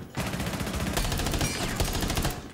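Rapid automatic gunfire in Rainbow Six Siege during a bomb defense round, a dense burst of loud, closely spaced shots running continuously for a couple of seconds with no talk.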